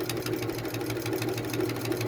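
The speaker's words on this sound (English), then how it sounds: "We're going to start sewing down this line." A sewing machine runs steadily while stitching a fabric face mask, a continuous close mechanical whir with a fast, even rhythmic chatter and no talking.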